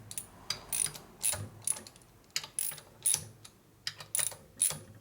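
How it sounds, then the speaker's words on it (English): Ratchet wrench clicking in short bursts while tightening bolts on a 2001 Indian Scout motor rebuild with an 88ci S&S big-bore engine, close and crisp with brief pauses between strokes. "I go ahead and pull them down with the wrench a little bit"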